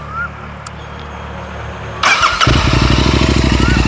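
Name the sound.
motorcycle engine starting, 270-degree twin with aftermarket exhaust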